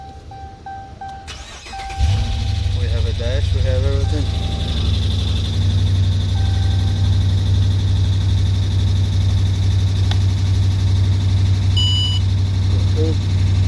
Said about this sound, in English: car's gonna start.